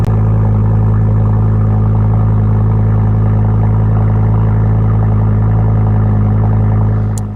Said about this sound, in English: I'll put up a little clip here of the cold start on this car